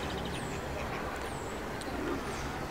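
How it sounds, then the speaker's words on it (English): Ducks and geese on a boating lake at a seaside pleasure beach in Skegness, faint quacks and honks drifting from a distance over steady outdoor background noise. "we've even got the geese and also some ducks"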